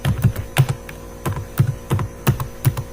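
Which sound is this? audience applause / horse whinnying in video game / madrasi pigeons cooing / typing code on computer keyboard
typing code on computer keyboard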